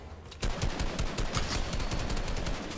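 Rapid video game gunfire bursts out after a short quiet lead-in, continuous automatic shots rattling loudly and close for the rest of the moment.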